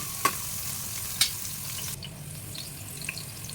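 Onions and cumin fry in oil for a black-eyed pea curry, crackling in a steady sizzle with two sharp stirring clicks early and lighter pops later.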